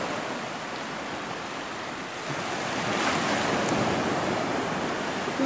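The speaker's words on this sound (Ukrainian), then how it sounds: "О, хвиля пішла." Sea waves break steadily on a seaweed-strewn shore at Sunny Beach, a continuous rushing surf that swells louder midway, with wind buffeting the microphone and no voices.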